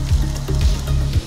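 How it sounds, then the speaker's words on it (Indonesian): Seasoned tofu cubes fry in hot oil, a steady close sizzle and crackle with a few low rhythmic stirring or bubbling pulses underneath, loud and continuous. "Tahu dipotong dadu, kemudian diberi bumbu, lalu goreng di dalam minyak panas."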